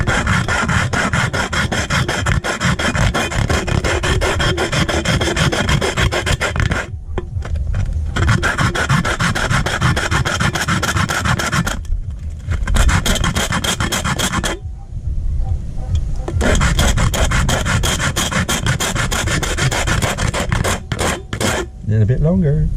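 Top of a soda can rubbed back and forth against a concrete surface, giving loud rhythmic rasping scrapes in long bursts with a few short pauses between strokes.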